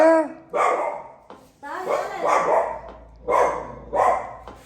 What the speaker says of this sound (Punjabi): ਚੀਕੂ ਚੁੱਪ ਕਰ ਵੀ ਭੌਂਕੀ ਜਾਣਾ